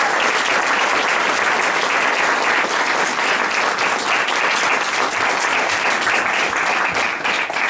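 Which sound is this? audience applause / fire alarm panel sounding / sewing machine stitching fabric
audience applause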